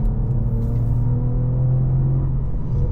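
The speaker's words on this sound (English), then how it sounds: "Gonna trail brake it in a little bit and then get on the throttle." A Cadillac CT4-V Blackwing driving on a backroad, its engine a steady, loud, close rumble with a rising harmonic as it pulls on throttle, continuous for the whole stretch with no talk.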